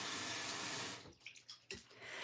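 Water runs steadily from a tap during a morning skincare routine, a close hiss that cuts off after a second, followed by a few faint splashes and drips before flowing again.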